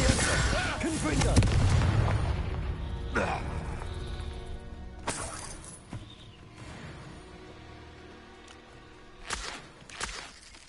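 Confringo spell blasts in the video game Hogwarts Legacy: several loud booming explosions with sharp cracks, the heaviest early and more spaced out later, partly under spoken voices.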